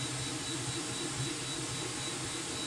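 An AnkerMake M5 3D printer works inside a plexiglass enclosure, producing a quieter, steady muffled whir with low pulsing motor hum and a faint high whine, continuous with no voices.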